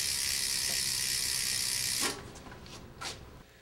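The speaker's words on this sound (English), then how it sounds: "hold on to the pedal with the pedal wrench, and just pedal the bike normally." A bicycle pedal held with a pedal wrench while the bike is pedalled gives a steady whirring freewheel ticking for about two seconds, then stops, followed by a few faint clicks.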